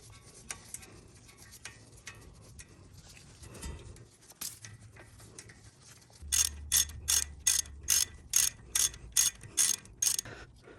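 A ratchet clicks in a quick run of about ten sharp, close ticks while the bottom brake caliper bolt is tightened on a 2018 Toyota Highlander, after quieter handling sounds.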